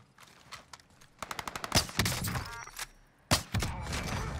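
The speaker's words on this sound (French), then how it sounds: "il était en train de se faire tirer dessus par contre, hein" Bursts of gunfire in the video game Warzone: a quick string of sharp shots, then heavier cracks and a loud blast near the end, over a low rumbling game background.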